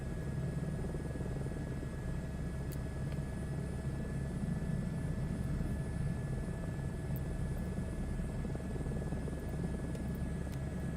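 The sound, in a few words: helicopter landing, engine going to flight idle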